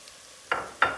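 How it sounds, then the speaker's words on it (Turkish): Red pepper dropped into a pan already frying onion and carrot, heard as two sharp sizzling bursts close together over a faint background hiss, with no voices. "Hemen biber atıyorum. Kırmızı biberi."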